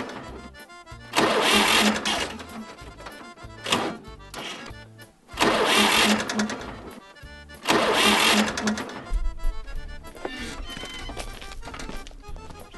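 A tractor engine cranks repeatedly in several long bursts of starter grinding separated by pauses, never catching, loud and close, with someone speaking between attempts.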